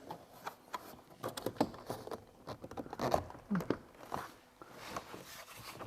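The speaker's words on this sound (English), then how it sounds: "You can start hearing them click in." Plastic retaining clips of a Chevy Trax side mirror snap into the door panel as a series of faint, irregular clicks and handling taps, with quiet talking between them.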